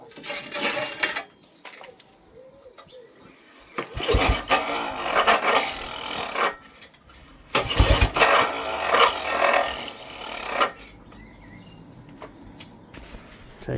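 An old secondhand outboard engine pulled over by its recoil starter, three bursts of clattering rope and flywheel spin separated by pauses, with rattling metallic noise from the recoil mechanism, close by.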